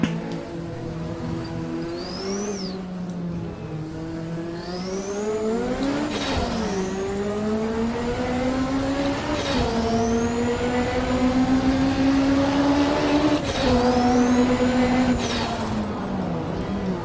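Race car engine in Assetto Corsa with the DRM Revival mod, droning loudly and continuously, with pitch rising through the gears and dropping at several sharp upshifts, plus faint whines from nearby cars.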